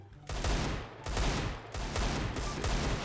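Rapid automatic gunfire in CS:GO running on a Source 2 mod during a 1v1 match, loud close bursts that stop briefly and resume several times.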